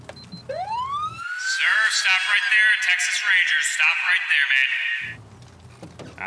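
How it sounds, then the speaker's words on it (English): A Dodge Ram 1500 police siren in the video game GTA 5 winds up from low to a high, loud wail, then holds with a warbling pulse for several seconds before cutting off, with faint talk underneath. "I'm gonna get my lights and sirens on."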